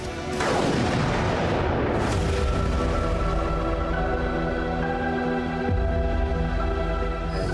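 A gun fires aboard the Indian Navy destroyer INS Visakhapatnam with a loud, sharp boom near the start. A long, rumbling reverberation follows, and steady ship machinery noise continues underneath.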